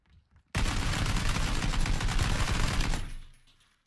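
Rapid burst of automatic gunfire in PlayerUnknown's Battlegrounds, loud and dense for about two and a half seconds after a short quiet start, then cutting off abruptly.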